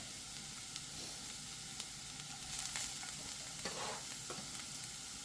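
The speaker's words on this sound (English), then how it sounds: "And throwing in the garlic." Garlic sizzles in a preheated cast iron skillet, a steady broadband hiss with a few brief stirring scrapes near the end and no talking.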